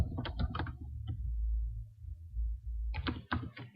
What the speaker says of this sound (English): Across here, I'm going to type the expenses: